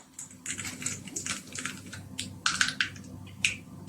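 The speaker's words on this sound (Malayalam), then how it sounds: "കടുക് പൊട്ടി വന്നിട്ടുണ്ട്" Mustard seeds pop in hot sesame oil as sharp, crackling snaps burst in quick irregular clusters over a soft background sizzle, close up.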